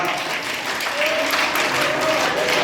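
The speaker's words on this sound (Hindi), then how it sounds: "रामकिशन जी के लिए भी ताली बजाओ" An audience at an elders' honouring day claps for an elderly honoree, a short burst of loud, even applause with a voice faintly over it.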